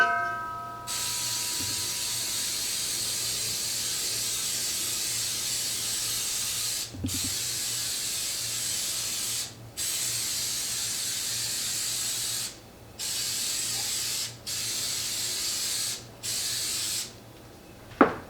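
A long, steady spray of cooking spray onto a cake pan hisses close by, broken by several brief pauses, then a final short burst.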